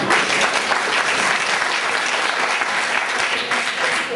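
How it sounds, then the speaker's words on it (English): Wedding guests break into loud, dense applause after a best man's introduction at a reception, a steady unbroken wash of clapping that holds for several seconds with no one speaking. "ladies and gentlemen, big round of applause"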